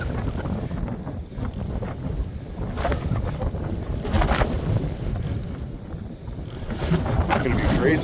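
Strong gusting wind over 30 mph roars across an open hill in a state park, buffeting the microphone in heavy, continuous low rumbling surges.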